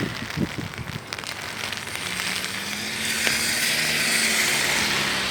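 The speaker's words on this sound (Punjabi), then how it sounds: "ਮੀਂਹ ਦੇ ਵਿੱਚ ਇੱਥੋਂ ਦੀ ਜ਼ਿੰਦਗੀ। ਸਾਹਮਣੇ ਸਕੂਲ, ਗੱਡੀ 'ਤੇ ਜਾ ਰਹੇ ਲੋਕ, ਮੀਂਹ ਪਈ ਜਾਂਦਾ ਹੈ।" Rain falls on a Melbourne street near a school, a steady hiss of drops and splatter with a passing car hum joining midway, continuous and moderately loud with no talk.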